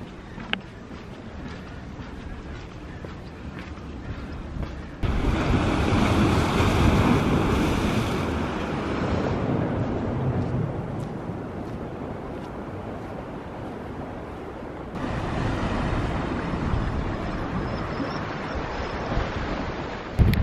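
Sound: waves on a beach at Sandbanks

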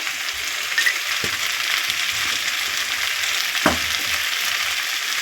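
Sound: sizzling as turmeric powder is added to frying fish curry

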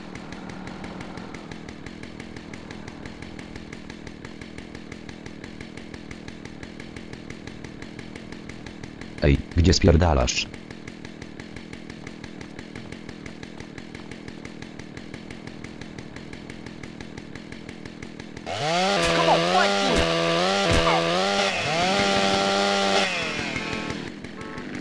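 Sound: chainsaw in the video game GTA San Andreas

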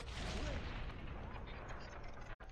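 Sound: distant explosion in the video game Tacoma

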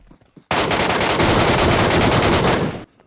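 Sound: MK gun machine-gun fire in BGMI video game

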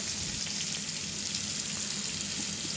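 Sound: potatoes with salt, turmeric and chili powder frying

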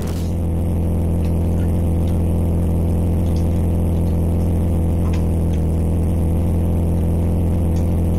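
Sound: car engine in Amiga racing video game Alpha Racing

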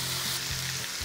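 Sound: meat browning on a hot pan for Thai green curry

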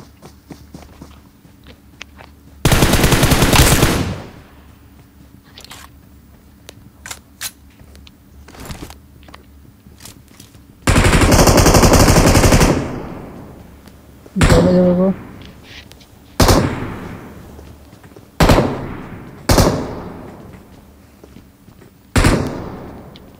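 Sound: shotgun gunfire in BGMI video game

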